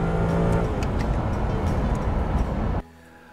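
A Jaguar car engine revving up hard after a downshift, a loud, dense mechanical roar that climbs steadily for nearly three seconds before cutting off abruptly into quiet.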